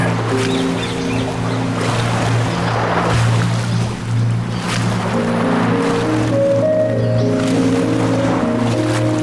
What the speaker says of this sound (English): Go ahead and start wading through the water.